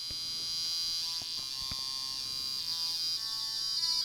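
A steady, buzzy electronic tone from an Atari Punk Console synthesizer with harsh high harmonics, holding continuously with slight pitch shifts and a few faint clicks.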